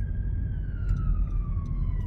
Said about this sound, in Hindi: एक सेकंड एम्बुलेंस आ गई।